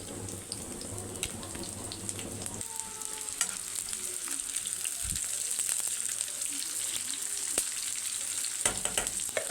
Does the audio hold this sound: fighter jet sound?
no